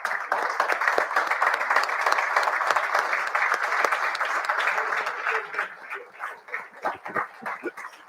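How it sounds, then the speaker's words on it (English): An audience applauds its sponsors with dense, sustained clapping that thins into scattered claps near the end, and a dog yips faintly in the background. "give a collective round of applause to all our sponsors"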